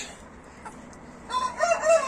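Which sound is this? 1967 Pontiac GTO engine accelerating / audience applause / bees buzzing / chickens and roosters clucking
chickens and roosters clucking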